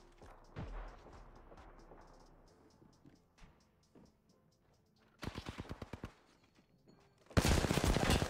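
Bursts of automatic gunfire in the video game Apex Legends: scattered distant shots early, then a rapid volley, and a loud close burst at the end, with no talk over them.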